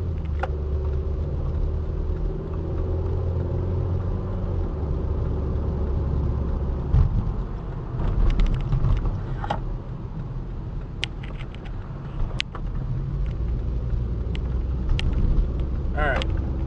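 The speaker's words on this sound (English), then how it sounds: "I'm just trying to pay attention to driving here" A car engine hums and rumbles steadily from inside the cabin while driving to a thrift store, with low road noise throughout and occasional clicks and rattles.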